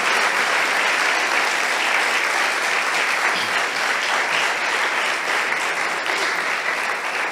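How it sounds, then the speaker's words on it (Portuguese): A church congregation at a missions service applauds one another in a dense, steady wash of clapping that fills the room and holds at an even level throughout. "você merece uma salva de palma. Hã? Aplauda ele"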